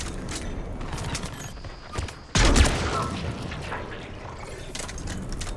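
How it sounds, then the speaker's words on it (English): Artillery fire in the Mass Effect 3 game, a single heavy boom bursting out midway through a steady rumbling battle din, loud and close, with a faint voice somewhere under it. "There's the artillery."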